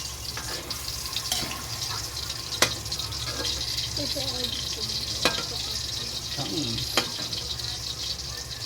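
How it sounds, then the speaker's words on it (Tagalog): Hot cooking oil spits and sizzles in a pan, a continuous frying hiss broken by sharp pops and crackles, with faint voices and kitchen clatter in the background. "Ako natatakot ka sa talansik na mantika."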